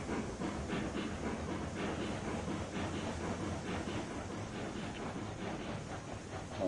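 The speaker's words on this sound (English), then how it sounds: "there's a feature on this game where I can re-rail locomotives for free" Locomotive running on rails in a train video game, a faint steady rumbling roll with rhythmic clicks and a soft hiss, no voices.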